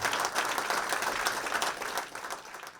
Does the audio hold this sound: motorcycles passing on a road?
no